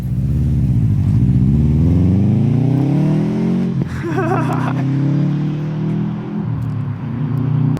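A Subaru WRX with a Greddy Ti-C exhaust revs hard on launch control and holds high, its exhaust note climbing and wavering with crackling pops midway, loud and close, with no talking.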